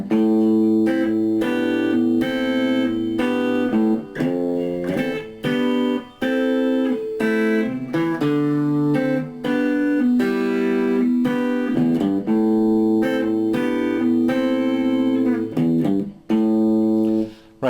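Guitar vamps on triad chords from a song, a steady run of strummed chord changes with brief gaps, close and loud with no talking.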